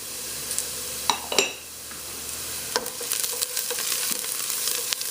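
Cumin seeds frying in oil in a pan for a macaroni and corn coconut curry, a soft steady sizzle broken by a few sharp clinks and scrapes of stirring, close and with no voices.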